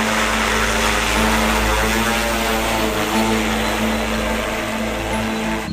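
An agricultural drone sprays nano urea fertilizer over farm fields, giving a loud, steady whirring rotor buzz that holds unbroken for the whole stretch with no voices.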